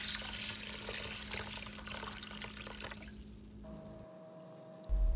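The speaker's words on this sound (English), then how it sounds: "Now add more water on this." Water pours and splashes into a container of pearl millet, rice, urad dal and fenugreek for dosa batter, then trails off into quieter drips near the end.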